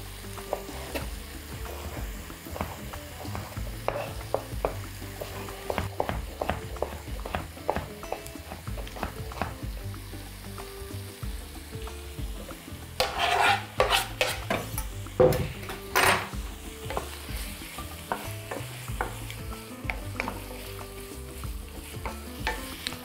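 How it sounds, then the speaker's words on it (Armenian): Five prunes cut into sticks fry in a pan while a utensil stirs and scrapes, producing a low sizzle broken by frequent clicks and sharp knocks against the metal. "Տապակի մեջ ավելացնում ենք սալորաչիր, 5 սալորաչիր"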